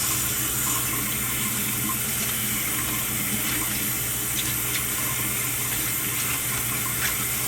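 Tap water runs steadily and fairly loudly over collard greens being rinsed in a sink, a constant splashing rush with occasional small clinks.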